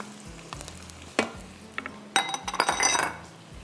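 Half a kilo of minced meat with a spoonful of ginger garlic paste fries in a pan, a soft sizzle broken by sharp clinks and scrapes of a spoon against the metal, growing busier toward the end.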